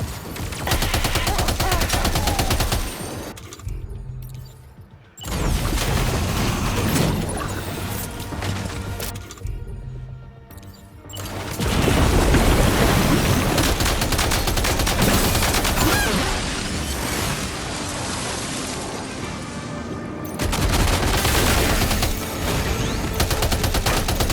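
Sustained bursts of automatic gunfire and fusillades in the video game Death Stranding 2, loud and continuous with brief lulls, mixed with crashing impacts and mechanical clatter.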